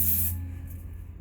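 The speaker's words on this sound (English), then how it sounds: "So we're going to spray and protect." A short hiss of heat protectant sprayed onto hair, one brief burst that fades quickly into quiet room tone.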